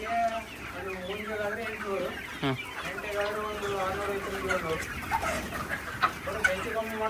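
Country chickens on a 300-bird poultry farm cluck and call in a dense, continuous chorus close by, with a voice talking briefly over the flock.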